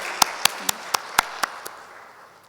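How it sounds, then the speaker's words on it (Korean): A church congregation claps in praise during a Sunday sermon, about seven sharp, evenly spaced claps in a steady beat that stop, leaving a quiet room tone. "우리도 한번 하나님께 박수드려요"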